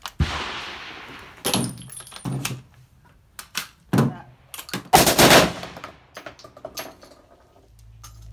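An M2 machine gun chambered in .50 BMG fires at an outdoor range in Alaska, in several heavy, sharp bursts spaced a second or two apart, loud and booming, with short quiet gaps between them.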